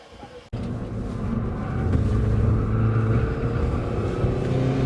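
A Hyundai i20N accelerates hard on a race track, its engine roaring loud and steady with a rising drone and dense wind and road rumble. A sharp cut near the start gives way to sustained full-throttle noise.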